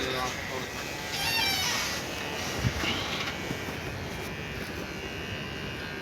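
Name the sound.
electric hair trimmer buzzing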